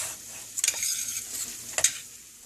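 Homemade Mexican rice with salsa being stirred in a pan, a soft steady sizzle with two brief scraping strokes of a utensil, close and without talk.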